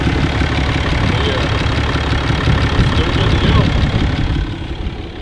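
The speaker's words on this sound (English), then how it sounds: "I love the sound of this truck. It sounds so good." A Cummins diesel Ram truck engine idles steadily at close range, a dense low rumble with a faint knocking texture that holds level throughout before easing off slightly near the end.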